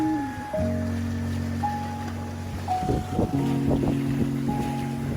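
Solo sailboat running at about six knots at night with the jib partly furled, wind and water rushing steadily around the hull, with several faint tonal whines drifting through.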